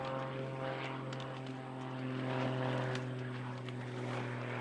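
Aerobatic propeller airplane flying competition maneuvers at the US Nationals aerobatic contest, its engine a steady, droning hum with strong harmonic tones, moderately distant and continuous throughout without talk.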